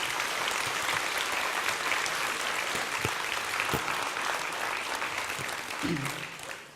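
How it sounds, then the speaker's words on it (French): A crowd applauds steadily at a 2019 New Year's wishes ceremony at Romans-sur-Isère, greeting the young councillors with dense, sustained clapping that tapers slightly near the end, with a few voices rising briefly. "On peut les applaudir, ils sont tous là."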